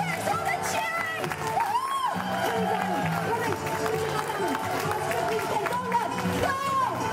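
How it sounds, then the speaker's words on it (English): A lively crowd cheers and shouts continuously at a children's swimming race, with many overlapping voices, whistles and excited calls filling the space at a steady loud level. "There's all the cheering!"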